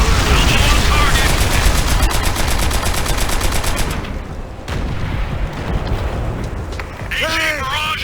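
Machine guns rattle in rapid continuous bursts during a Call of Duty: World at War battle, loud and close, mixed with booming artillery and explosions while soldiers shout over the din.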